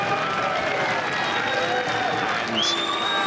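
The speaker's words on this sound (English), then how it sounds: "And the crowd here do not like it." A boxing crowd in a hall reacts against the judges' decision with a loud, sustained roar of jeers and shouting, a commentator's voice running over the noise.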